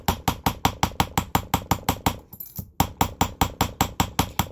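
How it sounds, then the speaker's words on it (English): Rapid, evenly spaced hammer blows ring on sheet metal while piercing internal shapes, close and loud, with one short pause midway before the steady strikes resume. "when I'm hammering the rest of it, I can be a little bit more heavy-handed"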